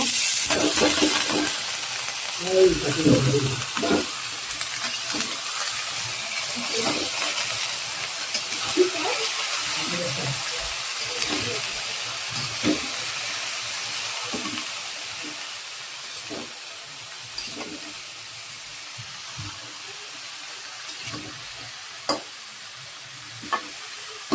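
Noodles and then vegetables go into a pan to boil and cook, giving a steady low sizzle and simmer with scattered stirring scrapes and light clinks, fairly quiet and without talk.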